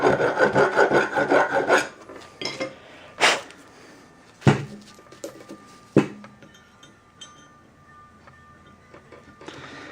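A hand file rasps in quick repeated strokes against a metal kingpin part from a Datsun truck, first a dense burst of scraping, then slower separate strokes and clanks, close and fairly loud.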